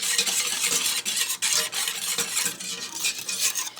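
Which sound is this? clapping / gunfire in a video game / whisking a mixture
whisking a mixture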